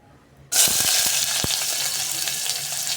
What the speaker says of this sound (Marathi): तेल गरम झालेलं आहे या ठिकाणी, तर आता मी तेलामध्ये कांदा घालून घेणार आहे.